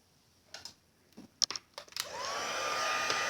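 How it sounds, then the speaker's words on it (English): A heat tool drying stamped ink on vintage-leaf crafting paper: a few soft handling clicks and taps, then the tool switches on into a steady, close airy whoosh of hot air that holds to the end. "I am going to take my heat tool and just give it a quick shot of heat"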